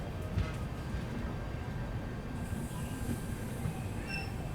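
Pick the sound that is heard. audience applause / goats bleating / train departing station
train departing station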